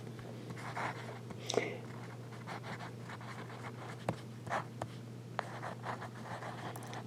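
A Jinhao X750 fountain pen with a medium Goulet nib scratches faintly across paper in short, irregular strokes over a quiet steady hum, with no talking.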